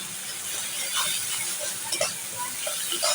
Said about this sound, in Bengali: এখন আমি এই মশলাগুলো ভালো করে কষিয়ে নেব।